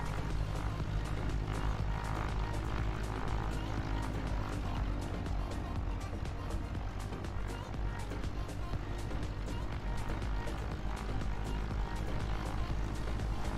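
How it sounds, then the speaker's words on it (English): An aircraft takes off in a flight simulator game, a steady, loud, unbroken engine drone holding for over thirteen seconds with a constant low hum and no clear rise or fade. "Looks like an aircraft just took off."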